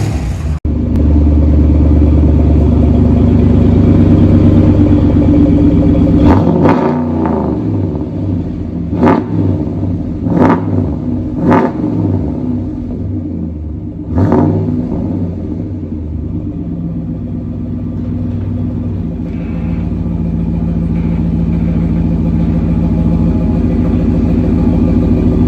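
A RAM pickup's 5.7L HEMI V8 rumbles at idle, then barks through several sharp, loud revs with a deep, throaty exhaust before settling back to a rumble.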